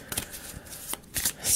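Tarot cards getting a quick shuffle, a soft, close sequence of brief riffling flicks and taps, quiet and alone with no talking.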